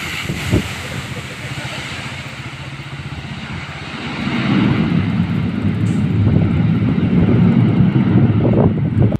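An airplane lands, nearly striking its tail, with a broad roaring rumble that starts moderate and grows louder and fuller midway, overlaid by wind buffeting on the microphone.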